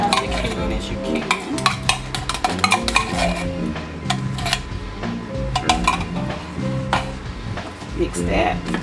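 Canned cheddar cheese soup stirred in a bowl, with quick, rhythmic clinks and scrapes of a utensil against the dish, and a voice talking over the clatter.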